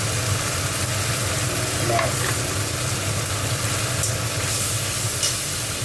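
Spice paste of dried chili, Kashmiri chili powder, turmeric and raw ginger frying in a pan, a loud, continuous sizzle with stirring scrapes close up and no talking.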